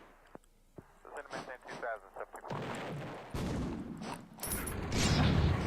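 Artillery fire and gunshots in a Roblox battle game, with heavy booming blasts and mechanical clatter building over several seconds, growing denser and louder toward the end while a voice talks over the first half.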